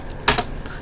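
Keys tapped on a computer keyboard while entering a username, a couple of quick close clicks followed by a few lighter taps, heard alone in a quiet room.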